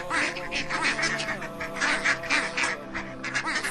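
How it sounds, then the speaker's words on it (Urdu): A flock of ducks and geese quacks and honks loudly and continuously, with many overlapping calls in a dense, close chorus. "بڑی بطخوں اور مرغابیوں نے امام علیہ السلام کا راستہ روک لیا اور زور زور سے آوازیں لگانا شروع کر دیا"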